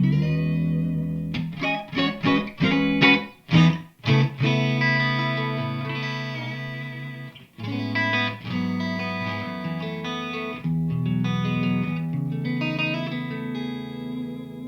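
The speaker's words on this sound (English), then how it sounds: "I'm actually going to give Kirby the foot switch, and you can just run through the tones dry" An electric guitar plays dry through a Bludotone Gjallarhorn amplifier with the effects switched off. It opens with quick, punchy strummed chords, then moves into sustained ringing chords and single-note lines, loud and clear, with no voices.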